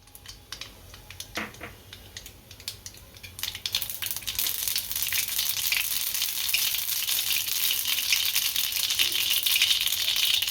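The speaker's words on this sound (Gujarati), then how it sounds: "આપણું તેલ ગરમ થઈ ગયું છે. આ રાઈ નાખશું." Mustard seeds hit hot oil in a pan and break into a rising, crackling sizzle, the spitting growing denser and louder over several seconds after a few quieter clatters.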